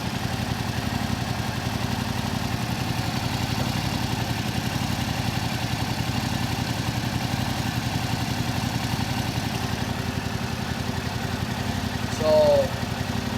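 A 2022 Yamaha R7 motorcycle engine idles steadily at close range with a constant low throb during an oil change using fully synthetic oil, and a brief chirp sounds near the end.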